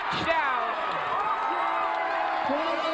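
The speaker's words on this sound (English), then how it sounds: "And that has ignited the crowd here at Honore" A high school football crowd at Honore Field cheers and whoops after a Paly touchdown against Archbishop Mitty, a sustained, dense roar with an announcer talking over it.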